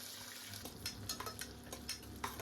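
Green chillies and onion pieces frying in oil and ghee in a pressure cooker, a faint steady sizzle with occasional scrapes and clinks of stirring.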